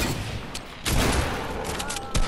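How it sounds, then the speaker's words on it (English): Rapid bursts of shotgun fire in the video game Fortnite, loud and dense gunfire with booms layered over game noise, a voice briefly heard behind it. "Stop shotgunning me!"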